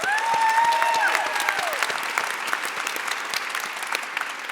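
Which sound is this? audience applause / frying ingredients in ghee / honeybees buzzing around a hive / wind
audience applause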